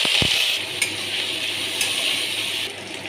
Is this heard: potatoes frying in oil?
yes